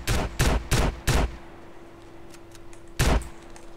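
Five booming shotgun blasts in GTA San Andreas, four in quick succession and then one more after a short pause, loud and punchy over a low hum of game ambience.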